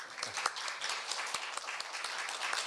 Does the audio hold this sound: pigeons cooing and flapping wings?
no